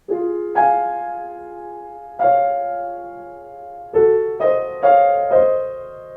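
Piano playing a slow series of two-note chords in thirds from Clair de lune, each struck at a steady, even volume and left to ring before the next.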